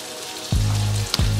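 Prawn linguine with pesto sizzles loudly in a hot pan, a close, continuous hiss with a couple of sharp bursts as ingredients hit the heat.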